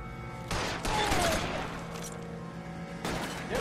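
Video game gunfire erupts in loud, dense bursts of rapid shots, with a sustained volley near the start and another near the end, all close and dominant.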